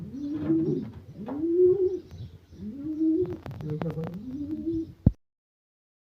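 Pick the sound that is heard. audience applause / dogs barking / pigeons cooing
pigeons cooing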